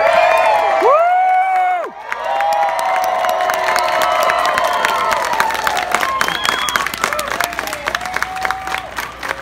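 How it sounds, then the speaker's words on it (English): A Renaissance Festival crowd cheers, whoops and applauds loudly for an acrobat show, with children shouting and sustained clapping spread through the whole stretch. "the higher I get, the louder you cheer"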